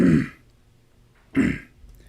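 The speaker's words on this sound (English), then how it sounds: "I'm clearing my throat" Two short, throaty clearing sounds, close and distinct, separated by a second of near silence.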